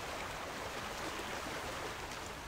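Waterfall in World of Warcraft: a steady, soft rush of falling water, continuous and fairly faint, with no voices over it.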